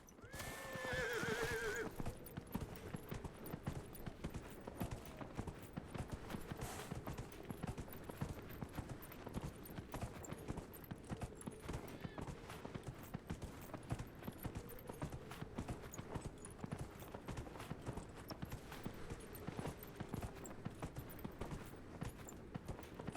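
A horse in the video game Dragon Age Inquisition gives a clear whinny at the start, then steady rhythmic hoofbeats continue at a trot for the rest of the stretch, close and even.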